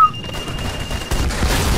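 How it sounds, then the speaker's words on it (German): Burst of explosion and gunfire noise in the co-op shooter Army of Two: The Devil's Cartel, with a grenade blast and sustained firing filling the short stretch loudly, without talk. "Granate!"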